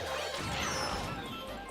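A kart crashing into glass in Mario Kart 8 Deluxe on a retro track, a dense, loud smashing burst that fills the whole moment with no talking.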